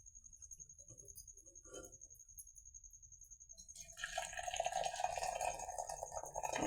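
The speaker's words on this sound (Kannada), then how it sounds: "ಆಮೇಲೆ ಉಳಿ ನೀರೆಲ್ಲ ಬಸಿಬೇಕ್ರಿ ಅದನ್ನು" Water from boiled greens being drained off begins partway through, a close, steady pouring and splashing stream that follows a few seconds of quiet background noise.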